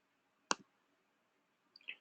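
Two separate computer mouse clicks while working in statistics software, close and crisp in a quiet room, about a second apart, the second a quick double tick.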